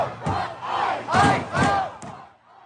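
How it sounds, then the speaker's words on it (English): A massive crowd of anti-ICE protesters in downtown Minneapolis on a cold night, swelling chants and shouts rising and falling in several loud waves before fading out. "a massive crowd of anti-ICE protesters flooding downtown Minneapolis."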